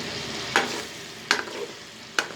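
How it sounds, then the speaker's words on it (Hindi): Chicken karahi being stirred as it fries in a pan, street-food style in Karachi: a steady sizzle underneath with three sharp scraping stirs spaced roughly evenly, close and moderately loud, no talking. "इनको अच्छी तरीके से हिलाते भी रहे हैं, ये ना हो कि नीचे से पकड़े चिपक जाएगा"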